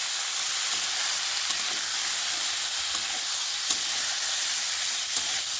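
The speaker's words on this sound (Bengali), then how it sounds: "মাংসগুলো এখন দিয়ে দেবো। তেল দিইনি, তাই এটাতে তেল উঠবে।" Pork sizzles in a pan with no added oil, a steady, close, dense frying hiss with faint crackles and no talking throughout.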